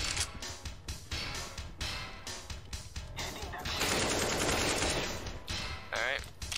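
Rapid AK rifle fire in CSGO, repeated loud bursts of automatic shots with short pauses between, rising into a sustained roaring volley before tapering off.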